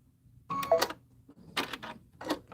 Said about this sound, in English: That's me pressing the cut foot.